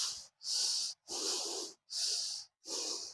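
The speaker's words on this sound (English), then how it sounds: "What we do here, which is very shallow, is chest breathing." Shallow chest breathing shown as a demonstration: four quick, hissing breaths through the nose, close to the mic, with brief silent gaps between them and no talking.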